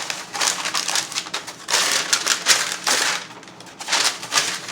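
Crinkly parchment paper rustles and crunches in bursts as it is pressed and pushed into a baking pan, close and fairly loud, with no voices.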